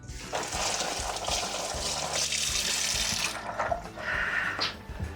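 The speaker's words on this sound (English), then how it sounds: "I'm going to have to warm my hands up afterwards with some cold water" Cold water runs steadily from a tap over hands for a few seconds, a close, continuous splashing hiss that dips briefly near the end before resuming.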